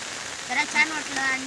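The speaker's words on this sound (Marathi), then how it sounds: "तर अचानक पाऊस आला आहे" A sudden first rain falls on a Konkan village in a steady, close wash of noise, with a voice speaking through it in short bursts.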